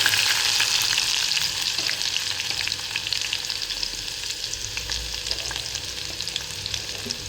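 Onions frying in oil for sambar crackle with a dense, steady sizzle and occasional stirring clicks, close and continuous, gradually settling slightly quieter after the first seconds.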